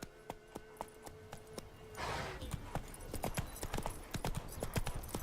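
Roach, the horse from The Witcher 3, gallops in a steady run, her hooves clip-clopping in a quick even rhythm that stays close and clear, with a brief rushing swell midway and no talk over it.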